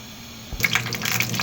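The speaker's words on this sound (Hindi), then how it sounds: "पैन में डाल लेंगे ऑयल" Oil is poured into a frying pan in a home kitchen: a short quiet moment gives way to a sudden close splashing trickle with small crackles.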